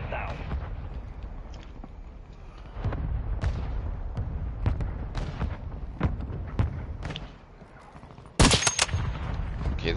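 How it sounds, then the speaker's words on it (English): Mortar strike explosions in the video game Modern Warfare III land amid continuous gunfire, with rumbling blasts and scattered cracks and a sharp burst near the end, under in-game radio voices. "Mortar strike inbound now."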